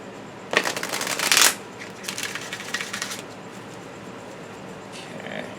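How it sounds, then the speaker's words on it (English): A tarot card deck riffled and cut up close, one sharp fluttering shuffle burst followed by softer card rustles and a faint riffle near the end, no talking. "Okay, we're going to cut the deck."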